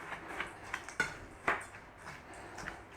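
A spoon scrapes and taps against a bowl while breadcrumbs and butter are mixed for a tuna noodle casserole topping, quiet and close, with a few sharp clinks spaced irregularly.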